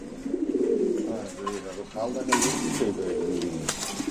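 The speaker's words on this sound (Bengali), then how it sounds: "এখানে আছে বারো নাম্বার খাঁচা এক জোড়া কবুতর" Pigeons coo in a cage at a wholesale pigeon market, with several throaty, rolling coos overlapping at close range while people talk nearby.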